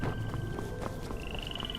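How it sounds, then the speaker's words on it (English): Frogs croak in the Where Winds Meet video game, a dense, continuous chorus of low rhythmic croaks close by, with a thin steady tone and a rising chirp running over it. "Okay, there are a bunch of frogs around here."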